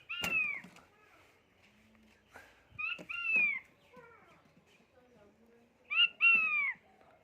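A king quail calls from close by in three distinct bursts of bright, rising and falling whistled notes, with short gaps and quiet background noises between them.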